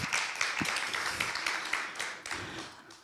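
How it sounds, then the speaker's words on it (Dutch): Applause from an audience at an award ceremony, a dense, steady wash of many hands clapping close by for about three seconds, with no speech over it. "Applaus."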